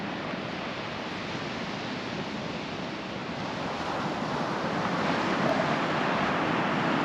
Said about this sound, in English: is the Atlantic Ocean.